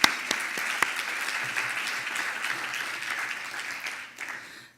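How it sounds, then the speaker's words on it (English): Audience at a closing summit session on building cities of the future applauding, a dense, steady burst of clapping that tapers off after a few seconds. "So let's give a round of applause to CPEX for the summit."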